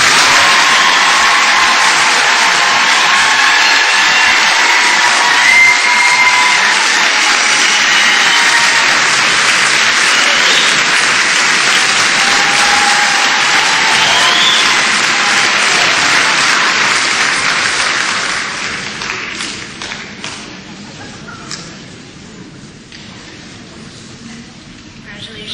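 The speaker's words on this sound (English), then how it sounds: "ladies and gentlemen, please give them a warm round of applause" A large audience at a graduation ceremony gives the graduates a warm round of applause, loud and dense for about eighteen seconds before thinning out to scattered claps.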